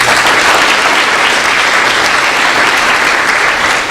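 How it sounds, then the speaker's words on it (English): An audience at a business school recognition and scholarship reception claps in a dense, loud, steady burst of applause. "let's give your faculty a round of applause"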